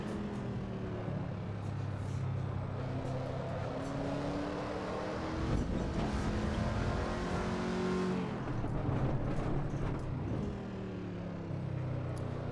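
A race car engine in Assetto Corsa Evo, heard from the cockpit as a steady loud drone climbing through the gears, with repeated shift drops, a harsh rough stretch mid-run and renewed revving, and no talking.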